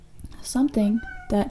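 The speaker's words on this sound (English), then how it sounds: "that was my cat. She's a Maine Coon." A seven-year-old Maine Coon cat gives a few close, drawn-out meows in quick succession, with a person speaking briefly over them.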